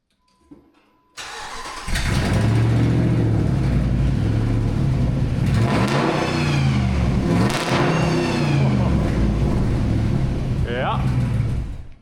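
A freshly built race car's engine cranks and fires up, then roars loudly with repeated hard revs rising and falling close by, with voices talking over it.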